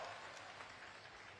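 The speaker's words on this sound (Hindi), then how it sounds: "उप मुख्यमंत्री बड़े भैया अरुण साहू जी के लिए एक बार जोरदार ताली के साथ सम्मान करो।" Crowd applause at a public gathering at the Bhandarpuri Dham fair, heard as a dense, steady burst of clapping at moderate distance for a short moment.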